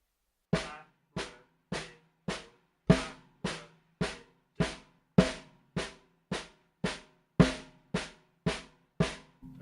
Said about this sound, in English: the first note of each paradiddle is played with more emphasis